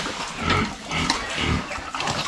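Pigs grunting and oinking on a farm, a few low, rough grunts at close range in a steady, irregular rhythm, with no talk over them.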